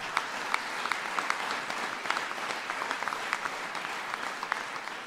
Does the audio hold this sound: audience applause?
yes